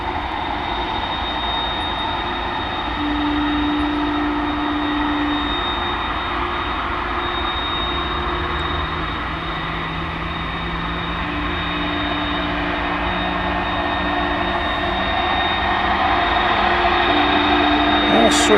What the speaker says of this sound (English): As we listen to the spool up of the tri-jet.